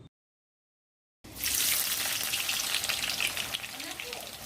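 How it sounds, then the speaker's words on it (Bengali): Sliced onions frying in oil for biryani birista, Kolkata-style chicken biryani: after a second of silence, a loud, steady hiss and crackle of sizzling oil starts abruptly and carries on without a break. "পেঁয়াজগুলোকে ভেজে পেঁয়াজ বারিস্তা করে নেব"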